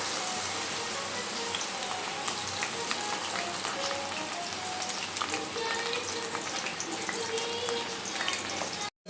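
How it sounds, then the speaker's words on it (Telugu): Corn kernels fry in hot oil in a small pan, a dense steady sizzle and crackle like light rain running the whole time, close and uniform with no talk. "ఆయిల్ బాగా వేడెక్కింది, సో నేను కొన్ని వేసుకొని వేయించుకుంటాను."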